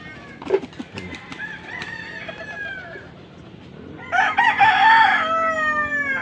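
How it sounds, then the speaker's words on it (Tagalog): A rooster crows loudly nearby, followed by a second long, strained crow; soft clucking and faint background calls fill the gaps. "May mga manok din dito."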